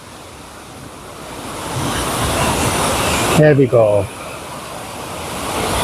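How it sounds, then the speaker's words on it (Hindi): Fast water rushes loudly through a stream channel near a lake in northern Italy, a broad continuous roar with wind buffeting the microphone, and someone speaks briefly over it. "कितना जो है फास्ट पानी जा रहा है"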